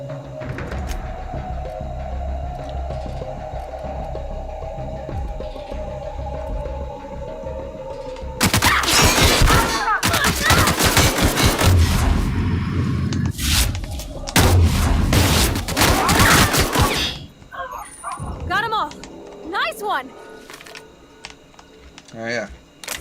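A big gun fires in The Outer Worlds, with loud bursts of heavy shots hammering in two long stretches, crackling and booming over game sounds while a player's voice talks between volleys.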